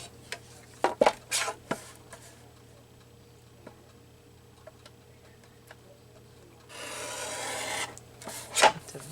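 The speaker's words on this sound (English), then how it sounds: "I'm going to trim some off of it." Paper being trimmed for a flower artist trading card made from a junk journal kit, giving a few short rasping snips near the start, then a longer steady scraping cut a little after six seconds. The sounds are close and quiet, and no one speaks.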